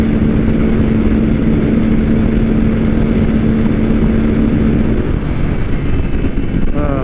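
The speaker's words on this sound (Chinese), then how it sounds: "我油门已经到底了，我的油门已经拧不动了" A 2019 Ducati Monster 821 V-twin at full throttle on a German autobahn gives a steady, high engine drone that is largely buried under loud, continuous wind roar, with no talk.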